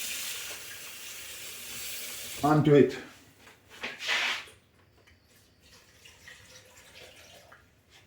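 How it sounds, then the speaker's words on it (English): Water splashes briefly into a cooking pot while coconut rice and peas are being made, a short loud pour with a faint hiss afterward, and a person talks around it. "And then I'm gonna add some water"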